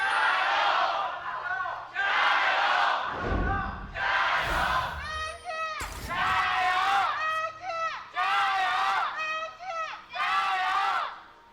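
A live crowd at an LPL esports match cheers and chants in loud, rhythmic bursts, with shouts and claps rising and falling through the arena close to the microphone.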